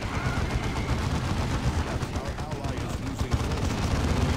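Heavy gunner machine gun fire in the Dawn of War 2 video game: a steady, loud stream of rapid gunfire and blasts throughout, with voices talking over it.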